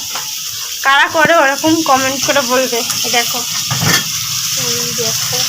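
Two pieces of fish fry in a home kitchen pan with a steady, close sizzling hiss that runs underneath continuous talk from a woman.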